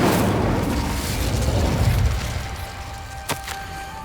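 The Incendio fire spell cast in Hogwarts Legacy, a rushing whoosh that swells and slowly fades over a few seconds, followed by a sharp short pop near the end, with no talking.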